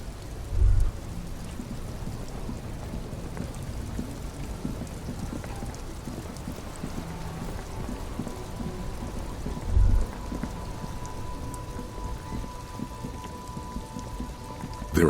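Steady rain falls throughout the Disco Elysium game scene, with two low, brief thunder rumbles in the distance, no voices.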